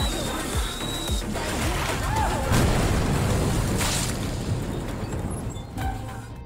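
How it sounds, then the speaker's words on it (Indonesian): An explosion in an action film erupts as a dense, loud roaring blast that rumbles on for several seconds, with crackling debris and a few faint tones mixed in. "Marco tetap saja meledakkan tempat tersebut"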